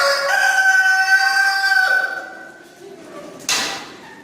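A rooster with ear lobes and no tail crows loudly up close with a long sustained call that fades out, followed by a brief scraping noise.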